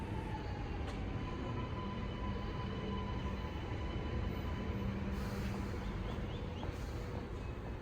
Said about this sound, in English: is the metro train that just came out of the maintenance building and will be turning back and going into the open yard area